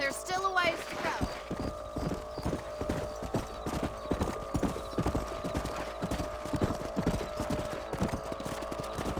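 Horse hooves clip-clop in a steady, continuous gallop while riding across the range in the video game Red Dead Redemption, with occasional whinnies and a voice talking over the hoofbeats.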